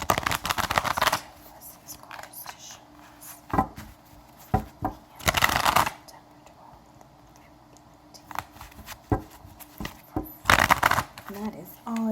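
Babylonian Tarot cards shuffled in bursts of riffling and rustling, with quiet stretches between, close and moderately loud; a voice whispers faintly in places.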